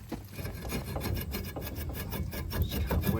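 A seized front wheel speed sensor is worked loose from a rusty hub on a fourth-generation Ram truck, making a steady, close, gritty rasping scrape that continues without pause.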